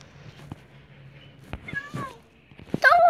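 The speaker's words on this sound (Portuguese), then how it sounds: "Toma, meus gatinhos." Cats meow several times in a video game, short rising and falling cries near and clear, with the loudest one at the end.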